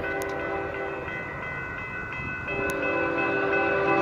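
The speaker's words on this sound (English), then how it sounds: "Two different kinds of bells, one on on each side here." Crossing bells, two different kinds, one on each side, ring in a steady repeating pattern at a railroad crossing near Bakersfield, California, while a Union Pacific train rumbles past nearby, its noise swelling toward the end.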